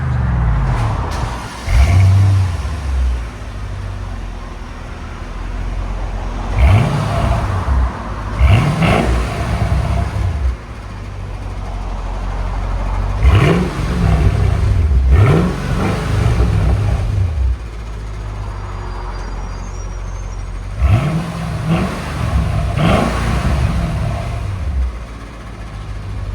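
Supercharged 5.5-litre V8 of a Mercedes S55 AMG with an X-pipe and resonator delete, heard from inside the cabin: five or six deep revs swelling and falling over a steady idle rumble, with no talking.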